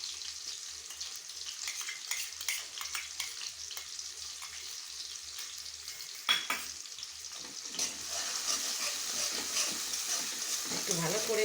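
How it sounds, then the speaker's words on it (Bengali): A paste of ground dried chilli and cumin sizzles in a hot pan, a dense continuous frying hiss with scattered spatters and a sharp crackle partway, stirring and a light utensil clink, close by. "একটু ভালো করে ভেজে নেব।"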